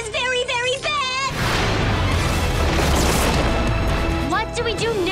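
A Super Mega Cannon blast from a Power Rangers Super Mega Force episode hits as a loud, broad booming explosion with a rumbling roar lasting a few seconds, with voices heard before and after it.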